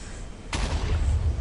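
Minecraft cannon firing in the video game, a single sharp blast followed by a brief rumbling tail, alone and moderately loud.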